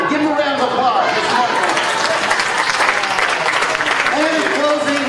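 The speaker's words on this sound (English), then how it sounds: "Give him a round of applause." Loud audience applause at an energy company sales training event, filling the room with dense, steady clapping mixed with cheering and crowd chatter throughout.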